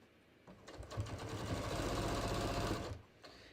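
A sewing machine stitches across a jeans pocket, the motor running in one steady loud burst for about two seconds after a soft start-up, then stopping.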